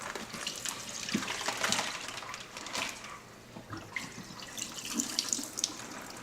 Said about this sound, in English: Drain the turkey out in the sink.